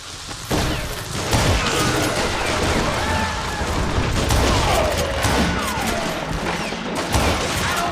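Rifle shots in the Western game Call of Juarez: Gunslinger: repeated sharp cracks burst through a loud, dense battle mix with music and a talking voice over the top, nearly continuous for several seconds.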